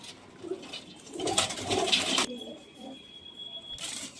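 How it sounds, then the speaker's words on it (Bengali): A male Dobaz pigeon coos softly against a rushing, noisy background, followed by a steady high-pitched whine that holds for over a second before the noise returns. "একটা দোবাজ নড় আছে"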